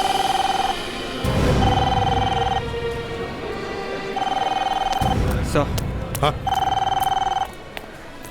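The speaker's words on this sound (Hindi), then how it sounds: "हाँ फोन यहाँ से बज रहा है।" A mobile phone rings in repeated bursts of a high electronic tone while people speak nearby, the ringing pausing between cycles.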